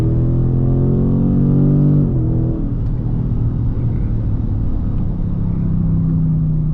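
A Dodge Charger 392 Scat V8 rumbles nearby with a deep, loud idle, and its pitch swells briefly and then falls back into a steady, throaty burble.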